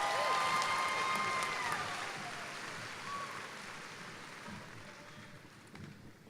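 Audience applause at the 2017 SAISD school district convocation: a steady, dense wash of clapping that starts loud and slowly fades over several seconds, with faint voices mixed in.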